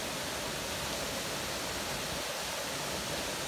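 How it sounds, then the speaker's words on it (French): A waterfall cascading onto a small beach, a steady broadband roar of falling water, close and continuous with no voices. "c'est cette magnifique cascade"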